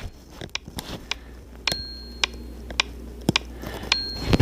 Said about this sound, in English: But this is the sound of the click.